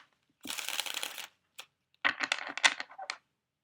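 Playing cards shuffled for a reading: a long riffling burst, a brief snap, then a second run of crisp card flicks and taps, close and clear with no talk.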